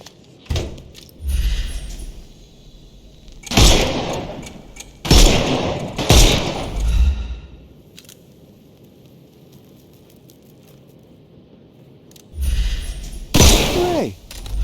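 Gunfire in the Sherlock Holmes Chapter One video game cracks out in several sharp, loud bursts spaced apart, separated by quiet stretches.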